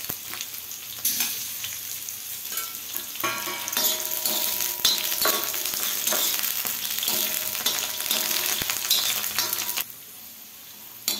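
Green chillies and ten to twelve garlic cloves sauté in a hot pan for a kharda chicken, giving a loud, continuous crackling sizzle with bursts of stirring. The sound drops off sharply just before the end.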